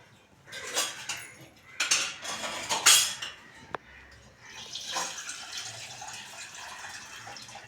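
Water sloshes and splashes in a metal pot as rice is stirred and rinsed, with clinks of the pot and a stretch of running water.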